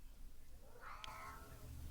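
A cat lets out a single short meow near the middle, fairly close and clear, over a low steady background hum with no talking.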